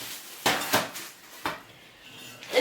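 Metal trays and kitchenware handled in a household goods shop, giving a few sharp clanks and clinks spaced apart at close range, with no talk.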